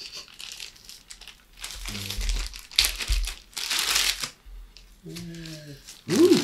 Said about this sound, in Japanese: では開封していきたいと思います。